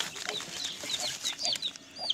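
Aseel chickens being vaccinated by chest injection cluck and squawk repeatedly nearby, a busy run of short sharp calls rising and falling over about two seconds, with no one speaking.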